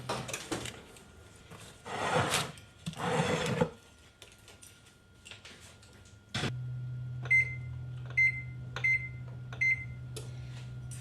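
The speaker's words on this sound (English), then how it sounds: "I'm putting this in the oven for 15 minutes" An oven runs with a steady low hum while a gluten-free vegan quinoa flatbread bakes, preceded by clattering handling noises and followed by a few short electronic beeps over the continuous drone.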